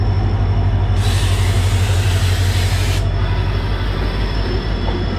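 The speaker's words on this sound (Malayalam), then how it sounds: "കൊങ്കൺ കന്യ മണ്ടോവി എക്സ്പ്രസ്" The Konkan Kanya / Mandovi Express passes on an Indian railway line with a loud, close rumble of wheels and carriages and a harsh hissing burst in the middle, then fades to a steady roar.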